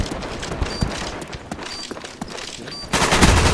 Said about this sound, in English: I'm using my favorite weapon in this this game, which just happens to be the AK-47